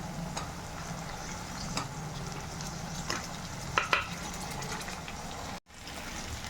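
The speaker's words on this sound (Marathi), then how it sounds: "हे बघा सगळं मी तेलात टाकून घेतलं आहे" Stuffed eggplants for Maharashtrian bharli vangi fry in hot oil, a steady soft sizzle with a few light clinks and stirring knocks, close and moderately quiet, without speech.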